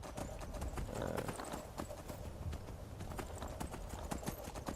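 Rapid, steady hoofbeats of a horse galloping in Skyrim, close and fairly loud, with a continuous rhythmic clip-clop over a low rumble of movement.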